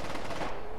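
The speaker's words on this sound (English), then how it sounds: "Oh, I hear gunfire. Very vigorous gunfire." Rapid bursts of gunfire in the zombie video game Contagion, a dense, continuous volley of shots at moderate loudness filling the whole moment.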